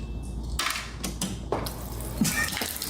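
Water pours from a refrigerator's water and ice dispenser in a few short close bursts of splashing and trickling, broken by clicks and brief pauses.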